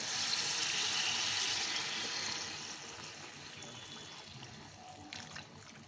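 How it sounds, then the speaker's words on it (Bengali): Hot water is poured into a pan of green chili chicken with potatoes, making a continuous splashing rush that gradually settles into a quieter bubbling hiss, close and without talk. "এই গরম জল দিয়ে দিচ্ছি"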